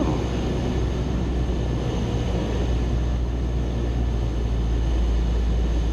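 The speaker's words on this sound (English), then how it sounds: "Okay, so that plane's departing." An airplane departing from a runway at a small airfield makes a loud, continuous low engine rumble and roar that holds steady throughout, heavy and close with no talk over it.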